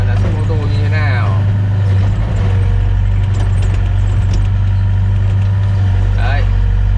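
A 2007 Volvo EC55 mini excavator's diesel engine runs steadily while loading a truck, a loud continuous low rumble with occasional hydraulic whines as the arm moves.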